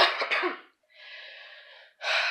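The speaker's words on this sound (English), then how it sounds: "it's this damn cough that has been preventing me from making those videos" A person coughs in a harsh burst of several close, loud hacks, followed by a quieter wheezing breath and then another sharp cough, all near and with no talking.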